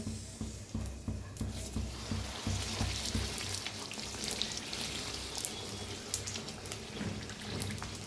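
Puris for bhature deep-frying in hot oil, a steady close bubbling sizzle with soft crackles and faint pops running continuously throughout.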